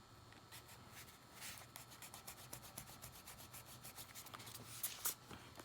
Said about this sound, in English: also use the eraser, like let's say this side, because the smudge is kind of blurry on that side